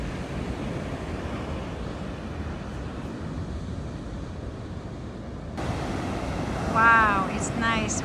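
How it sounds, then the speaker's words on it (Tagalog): Ocean surf rolling onto the shore at Mori Point, a continuous broad wash with heavy wind rumble on the microphone, growing slightly louder near the end as someone briefly speaks. "Lakas ng alon niya"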